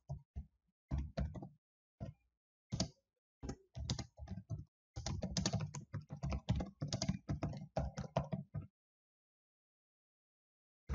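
Someone types Excel formulas on a computer keyboard: close, crisp keystrokes in short bursts and quick runs separated by brief pauses, then silence at the end, with no voice.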